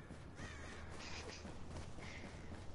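Crows caw several times in Tom Clancy's The Division game, hoarse calls at moderate distance over a steady background rumble, with no voices.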